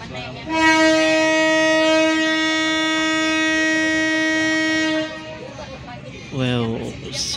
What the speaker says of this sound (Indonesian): Wow, suaranya itu loh, klakson CC 201 hidung miring Asdi Frey